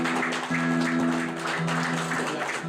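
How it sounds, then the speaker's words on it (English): Guests at a real estate book launch dinner give a round of applause, a soft, steady patter of clapping heard at a distance over a low electrical hum. "Please, a round of applause."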